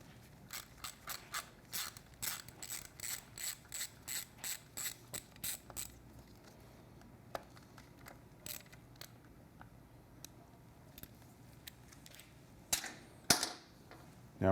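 A ratchet with an 8mm socket loosens a screw above the sprocket of a Triumph Street Twin motorcycle, a quick run of sharp clicks for about six seconds, then quieter pauses and a few final clicks and clatter.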